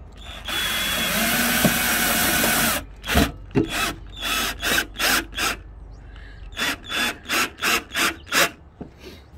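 A power tool cuts a piece of metal for a Hi-Lift jack mount on a Pajero. A loud, continuous whine lasts a few seconds, then breaks into a series of short, rhythmic bursts.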